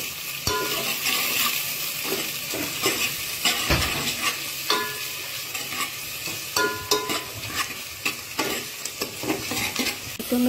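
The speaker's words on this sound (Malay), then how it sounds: "masukkan kayu manis, bunga lawang, buah pelaga. Tumis sampai naik wangi." Cinnamon, star anise and cardamom sauté in hot oil in a pan for a chicken curry, with steady sizzling and frequent scraping stirs and clinks of the utensil throughout.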